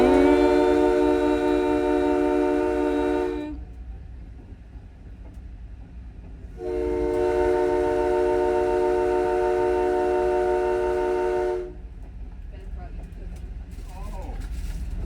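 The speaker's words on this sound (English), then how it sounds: "Okay, wait for the horn." A train horn sounds from inside the cab, two long loud blasts of a steady, harmonic-rich tone about three and five seconds each, separated by a short pause over the rumbling cab noise.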